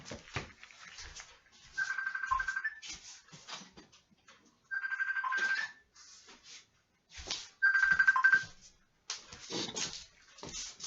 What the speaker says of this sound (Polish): Telefon mi z Messengera zadzwonił.